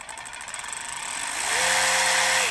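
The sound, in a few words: DeWalt DCF513 20V Atomic cordless ratchet running at slow variable speed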